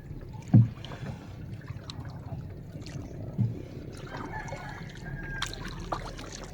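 Quiet water sounds with a couple of soft knocks and splashes, like a paddle dipping and bumping a small boat on calm water along a beach in Marinduque.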